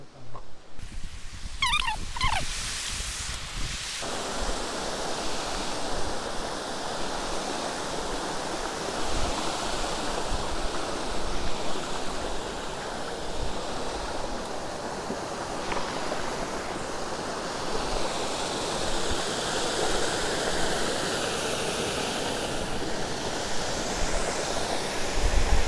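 Stream water rushing steadily along a trail on the Kalsubai trek in Maharashtra, a continuous close broadband wash that stays loud throughout after a brief quieter opening.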